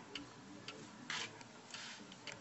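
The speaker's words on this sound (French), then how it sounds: "Voilà le balancier et la pendule qui est là." Pendulum chime clock ticking steadily in a quiet room, a series of faint, evenly spaced ticks with one slightly stronger click, heard alone without talk.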